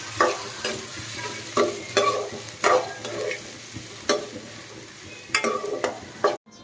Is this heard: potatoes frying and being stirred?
yes